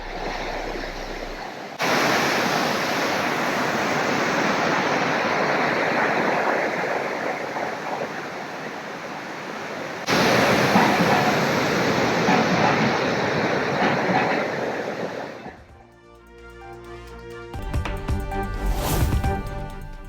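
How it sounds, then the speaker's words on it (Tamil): Floodwater pouring over Panchalinga waterfall near Udumalai makes a heavy, continuous rushing roar in two long stretches, split by a brief cut and followed by a short musical passage. "உடுமலை பஞ்சலிங்க அருவியில் கடும் வெள்ளப்பெருக்கு"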